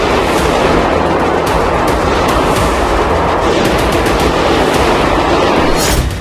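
Gunfire inside the Crocus concert hall in Moscow during the attack, a loud, dense and continuous crackling barrage of shots with no pauses, alone without voices.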